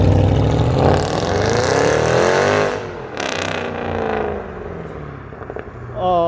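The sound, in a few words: white Mercedes AMG car driving away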